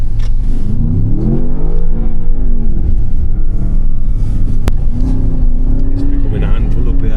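Engine of a high-performance SUV revving hard under acceleration, a loud, close-miked drone whose pitch rises and falls in sweeps through the clip, with people talking over it inside the cabin.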